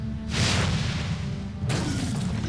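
A corrosive grenade explodes in a strategy video game, giving a deep booming blast with a rushing whoosh, followed by a second burst about a second later, loud and without talk.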